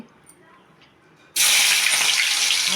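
Raw plantain slices hit hot oil for crispy chips and start frying, a sudden loud, dense hissing sizzle that begins abruptly after a quiet moment and holds steady.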